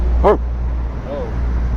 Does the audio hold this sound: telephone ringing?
no